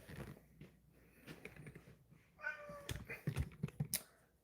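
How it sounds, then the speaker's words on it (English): A pet cat meows at close range, a short tonal call standing out among quieter household rustles and a few small clicks, with no talking. "you meow at me too much."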